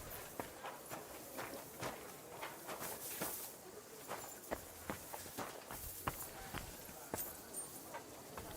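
Horse hooves clop in the Kingdom Come Deliverance 2 video game, an irregular series of sharp, moderately close hoofbeats over a soft outdoor ambience with light background noise.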